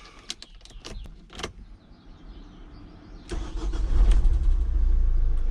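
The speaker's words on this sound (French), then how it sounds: "Maintenant on va tout simplement démarrer notre trafic et le laisser tourner 10 petites minutes." A Renault Trafic diesel van engine starts: a few clicks and relay ticks, a brief electric whine, then the starter cranks and the engine catches into a loud, steady low idle close by.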